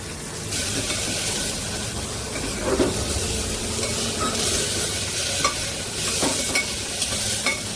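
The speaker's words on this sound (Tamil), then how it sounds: "இப்போ சூடாகிட்டு அதில் நான் ஒரு பச்சை மிளகாய், ஒரு வெங்காயம்," Green chilli and onion crackle in a spoonful of hot oil, a dense, constant sizzle up close with occasional faint stirring taps and no talking.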